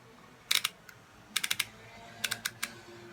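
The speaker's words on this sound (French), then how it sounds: "je vais prendre mon étiqueteuse" A handheld label maker is typed on, with three quick clusters of crisp, light key taps, faint and close against a quiet room.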